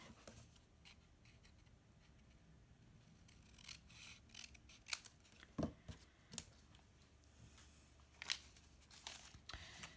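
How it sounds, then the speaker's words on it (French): Scissors snipping a small piece of card for a business-card box: quiet, close, irregular cutting and rustling with a few sharp louder snips, no voice. "j'en ai encore un petit bout à découper"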